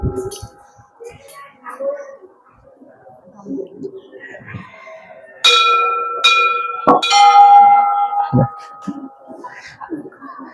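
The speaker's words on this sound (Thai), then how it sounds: "ก่อนจะลอดโบสถ์ต้อง ตีระฆังสามครั้ง" A temple bell at a Thai temple rings out with sustained metallic tones, struck repeatedly with long ringing decay, loud and close, while people talk quietly around it.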